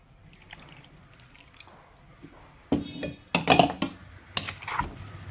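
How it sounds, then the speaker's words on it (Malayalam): Water is poured in a short burst into a fish head curry pan, splashing and trickling close by after a quiet stretch, with a few drips and clinks. "ഇതൊന്ന് അല്പം വെള്ളം ഒഴിച്ചിട്ട് നമുക്ക് ഇതിൽ ഒഴിക്കാം"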